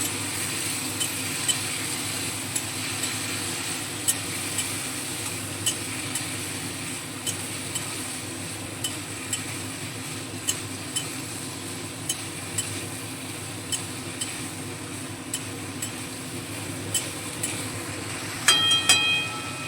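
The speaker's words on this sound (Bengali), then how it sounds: "ছোলাগুলো খুব ভালোভাবে পেঁপের সঙ্গে মিশিয়ে নেব" A spoon stirs chickpeas and papaya curry in a pan, with a steady low sizzle underneath and regular soft scraping clicks close by, no talk.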